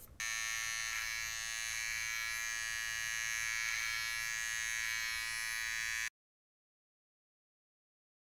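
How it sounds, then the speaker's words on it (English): An electric beard trimmer buzzes steadily and close for about six seconds, a constant high whine while trimming a beard at home, then cuts off into silence. "let's get trimming"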